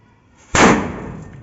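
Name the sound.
firecracker exploding next to a parked car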